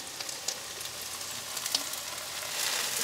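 Mushrooms, sausages and onion sizzle steadily in a frying pan with a bright hiss and occasional crackles, swelling slightly louder toward the end.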